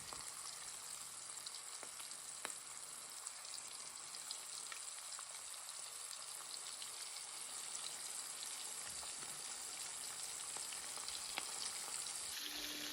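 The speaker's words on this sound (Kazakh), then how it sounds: "Орташа отта 2 жағын бірдей етіп қызартып қуырып аламыз." Potato-and-onion cutlets fry in a pan over medium heat, a quiet, continuous sizzle and crackle with occasional small pops, heard alone.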